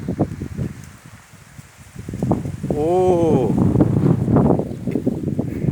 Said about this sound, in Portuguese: Desculpa o vento aí, que hoje tá